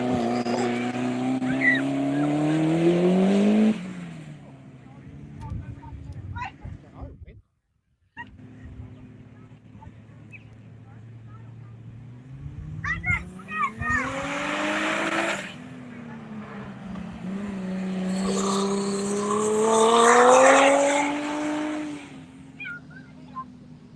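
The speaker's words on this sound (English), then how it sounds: "Now, right behind them, I can hear a turbo." A turbocharged race truck, a 427 Razorback, roars past on a river-side dash course. Engine note rises and falls as it approaches and recedes, with a second loud pass later and a brief gust of wind noise between.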